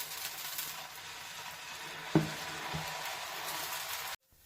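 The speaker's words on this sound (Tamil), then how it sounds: "இப்போ நம்ம தோசை ஊற்றிடலாம்." Dosa batter for a cauliflower masala dosa spread onto a hot oiled pan over a low flame: a continuous soft sizzle with a single clack midway, ending abruptly in silence, no voices.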